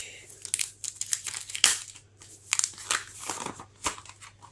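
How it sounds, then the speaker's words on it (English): Plastic film peeled off a new Amazon Echo 2nd Gen smart speaker during unboxing, a run of close, loud crinkling and tearing bursts that come in uneven clusters, with nobody talking. "So we'll just pop that down, peel off the plastic"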